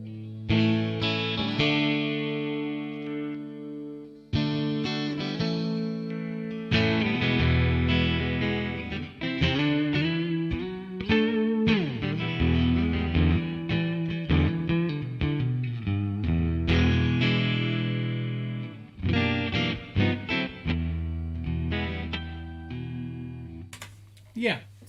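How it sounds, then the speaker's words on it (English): Electric guitar running through a multi-effects unit on an acoustic-tone preset, played as a sustained, rhythmic passage of chords and single notes that rings loud and close throughout, with brief pauses between phrases and no talking. "I think this is an acoustic tone."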